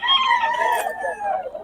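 A single rooster gives a clear, close crow lasting under two seconds among gamecocks in Bocaue, Philippines, its call falling slightly in pitch toward the end.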